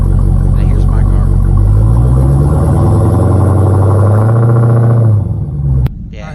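Loud, close exhaust rumble from a revving Dodge Hellcat: a steady deep drone that rises slightly and then cuts off sharply near the end.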